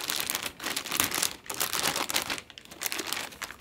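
Plastic wrap crinkles and rustles in repeated close handling bursts while a Universal Audio Apollo X6 Heritage Edition audio interface is unboxed and its packaging is pulled away. No speech.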